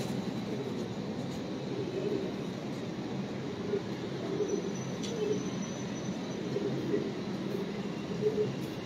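Ferozpuri pigeons coo in a low, steady murmur throughout, with a faint background hum and occasional soft rustles, several birds blending together at close range.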